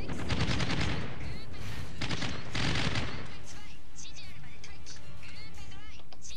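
Ship guns thunder in World of Warships, a naval video game, with dense rapid volleys and booming salvos for about three seconds, then scattered lighter shots and crackles as the barrage thins out.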